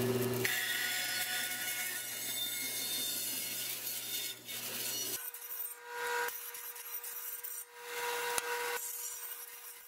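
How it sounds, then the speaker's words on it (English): A bandsaw cutting a wooden log birdhouse gives a steady, close rasping buzz with a tonal hum that shifts as the cut progresses, then continues thinner with brief pauses. "I'm gonna do a little bit of optional bandsaw work."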